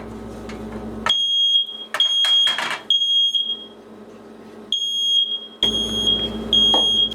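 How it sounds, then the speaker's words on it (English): A smoke alarm shrills in loud, repeated bursts of piercing beeps with short gaps between them, going off indoors while buns are toasted on a Chef Mate butane stove. "I managed to set off the smoke alarm"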